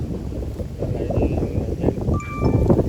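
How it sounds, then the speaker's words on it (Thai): Wind blows outdoors, buffeting the microphone in low, uneven gusts that grow stronger toward the end, with a faint voice in the background. "ยินแต่เสียงลมเด้อพี่น้องเด้อ"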